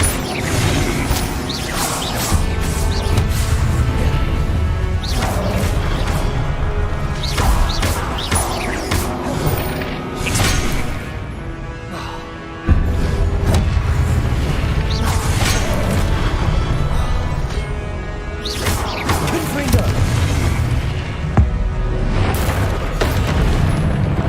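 Expelliarmus, Incendio and Confringo spells cast in the video game Hogwarts Legacy, making a dense, continuous barrage of booms, crashes and whooshing blasts, loud and close throughout with a brief dip midway.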